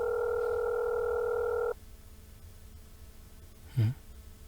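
A steady phone call tone plays for almost two seconds and stops abruptly, followed by near-silence and a short faint knock.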